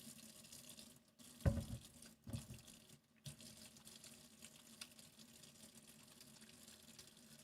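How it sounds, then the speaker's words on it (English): Tap water runs into a sink while hands are washed, a continuous soft splashing stream with a few louder bursts early on, close by and without talk. "I can read the chat while I'm washing hands."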